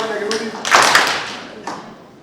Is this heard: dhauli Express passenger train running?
no